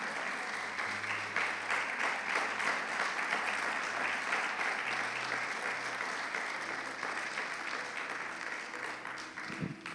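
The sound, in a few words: congregation applauding in church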